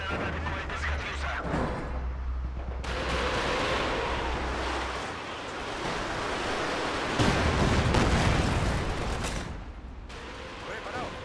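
A Katyusha rocket launcher barrage in Company of Heroes 2 sounds as a sustained roar of blasts and whooshing noise, swelling and fading over several seconds.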